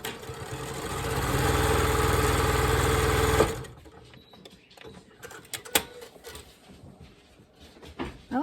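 Sewing machine stitching quilt block strips, a steady close whirring run for about three seconds that stops abruptly, followed by quiet handling noises.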